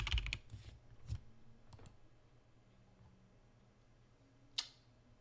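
Computer keyboard keys clicking in short bursts, a quick cluster at the start and a few isolated clicks later, fairly close and quiet, with no talking.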